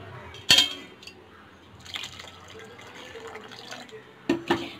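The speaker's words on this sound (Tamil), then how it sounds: "தண்ணி ஆட் பண்ணி மூடி கொதிக்க விட்டுடலாம்." Water is poured into a cooking pot while channa (chickpea) gravy is being made, a short splashing pour with a couple of sharp clinks nearby.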